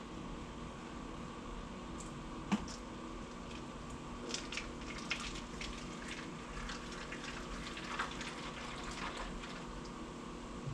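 Water runs and trickles quietly and steadily into the water channels of an egg incubator, with a few faint clinks and a low hum behind it.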